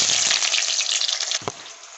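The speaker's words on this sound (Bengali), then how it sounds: "মাংসের এই তেলের মধ্যে পেঁয়াজ দিয়ে দেবো" Onions sizzling loudly in beef fat in a pot while cooking beef biryani, a dense continuous hiss close by that eases slightly after a brief knock near the end.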